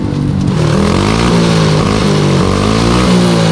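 A motorcycle engine runs and revs up through the gears to fourth, a loud continuous drone whose pitch rises and drops with each shift, alone without talking.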